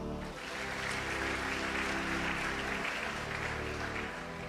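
A church congregation claps together in a dense, sustained burst of applause, with voices and music audible beneath it and no break from start to finish.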